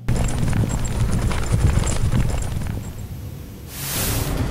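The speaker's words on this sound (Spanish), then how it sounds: "logramos captar el sonido de unos caballos" Horses' hooves clip-clop in a rapid, irregular patter of hard knocks close by, fading toward the end before a brief hiss of noise; no one speaks.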